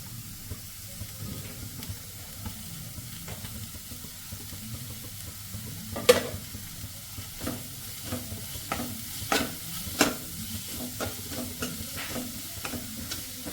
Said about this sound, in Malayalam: നമുക്ക് സ്പ്രിംഗ് ഓണിയും ചേർത്ത് കൊടുക്കാം